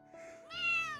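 A cat meows once up close, a short rising and falling cry lasting about a second with no other sounds around it.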